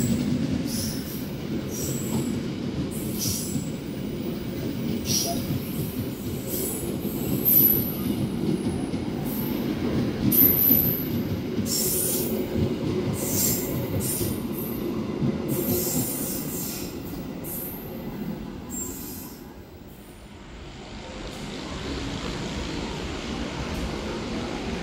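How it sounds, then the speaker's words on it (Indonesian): A parcel train rolls onto platform track 4 at a busy Jakarta station, a loud continuous rumble of wheels with sharp high squeals and clanks from the rails, sustained for the whole stretch and dipping briefly near the end. "Jalur 4 masuk kereta api parsel"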